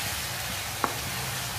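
Olives frying in a pan for pesto pasta, a low continuous sizzle heard close up with one brief clink of a utensil midway, and no voices.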